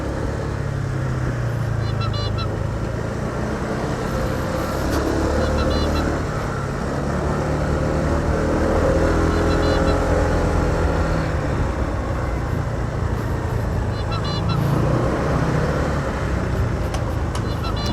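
A motorcycle rolls along River Drive, a riverside road lined with houses, its engine droning steadily up close under wind rush while a rider talks over it, with a horn honk cutting in.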